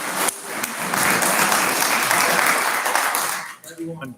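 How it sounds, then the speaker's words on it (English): Loud, dense applause from the audience at a city council meeting, many hands clapping in a sustained roar for several seconds before tapering off abruptly as a voice begins to speak. "Everyone, please hold your applause."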